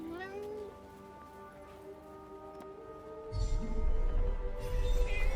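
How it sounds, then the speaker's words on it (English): A cat meows in the video game Forspoken: a short, rising call at the very start over quiet ambience, followed by louder, steady rain-like noise in the second half. "A cat."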